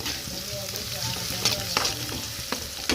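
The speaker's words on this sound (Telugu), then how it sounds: "ఉల్లిపాయ పచ్చిమిర్చి అనేది బాగా ఫ్రై చేసేసుకోవాలి" Onion and green chili fry steadily in a pan, a close, continuous sizzle with a few sharp clinks and scrapes of stirring scattered through it, no voices.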